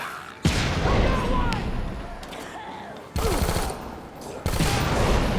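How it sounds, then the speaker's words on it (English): Loud bursts of bomb explosions and gunfire-like booms in the game Dead Rising 4, three sudden dense blasts with rumbling continuing between them, up close and harsh. "That person is throwing bombs."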